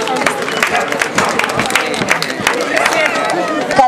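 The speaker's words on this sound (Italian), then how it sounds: "Un applauso anche a Quentin." Audience clapping and cheering at an outdoor dog parade in Italy after a five-year-old border collie completes a jump and walkway, a steady busy patter of many hands mixed with crowd chatter and an announcer's voice over it.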